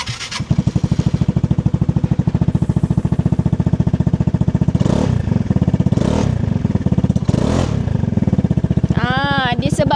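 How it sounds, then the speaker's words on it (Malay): A Vespa GTS 300 scooter's 300cc engine fitted with an Akrapovic exhaust, idling close by with a steady low throbbing beat and a few brief rises in revs. "ada nak belanja sikit bunyi Vespa old school yang 300cc ni"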